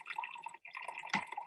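Acid drips from an opened stopcock into a baking soda and water mixture, giving faint, close, rapid fizzing and trickling with a brief gap and a sharper splash near the end.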